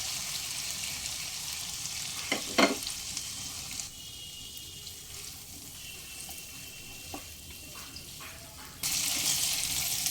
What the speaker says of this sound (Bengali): সমস্ত মশলার সঙ্গে সবজিগুলো একটু কষিয়ে নেব